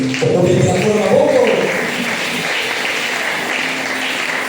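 A church congregation applauding during a French-language spiritual warfare worship service, steady clapping over the full span, loudest at the start while a voice speaks over it, then continuing as a dense wash.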